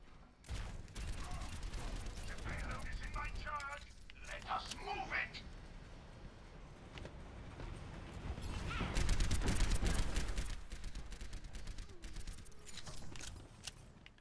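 Rapid automatic gunfire from an Overwatch match, dense bursts carrying on under game voice lines and a player's talk, swelling louder near the end amid mechanical clatter.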